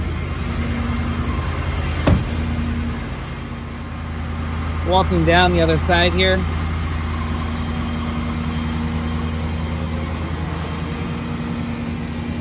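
A truck engine idles steadily while powering a mobile generator on a Kempower 50kW EV charging rig. The low, even hum runs throughout as someone speaks briefly.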